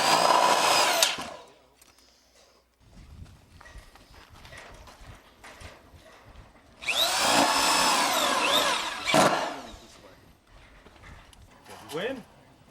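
A power tool gun drives fasteners into metal wall and roof panels in short, loud whirring bursts near the start and again mid-clip, separated by quieter stretches with some background noise.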